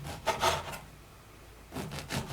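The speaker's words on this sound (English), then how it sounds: "I'm going to cut the bread about 1/4 of an inch thick" A knife slicing bread about a quarter inch thick for tomato tea sandwiches: two short bursts of rasping, sawing strokes separated by a quieter pause, close and moderately loud.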